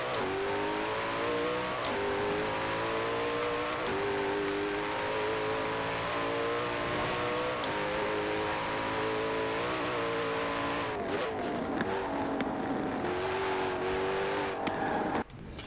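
A Koenigsegg supercar in the racing video game Forza Horizon 4 roars at high revs, its engine note climbing and shifting through gears with brief dips, loud and continuous, ending with a sudden drop.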